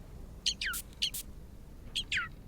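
Birds in the video game Voyage give short, bright chirps in quick pairs, fairly close and clear over a faint background hush.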